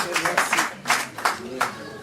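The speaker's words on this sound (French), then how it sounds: "Mesdames, Messieurs, merci d'applaudir le docteur Joya" A small audience applauds Doctor Joya at a French-speaking gathering, with scattered hand claps that come in uneven bursts at moderate distance, and a murmur of voices runs underneath.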